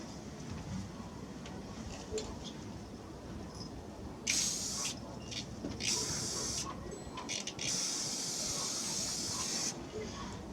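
Black spray paint hisses out of an aerosol can onto a Mossberg 500A 12 gauge shotgun in several close bursts of varying length, separated by short pauses, with low background noise between them.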